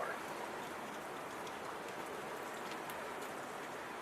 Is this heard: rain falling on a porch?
yes